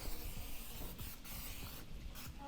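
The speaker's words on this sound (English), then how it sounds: "Just spray it down just a little bit." Soft hissing bursts of cooking spray onto a smoker screen, a few short sprays close by against a steady background hiss.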